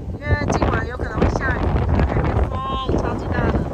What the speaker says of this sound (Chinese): 风，超级大的，很冷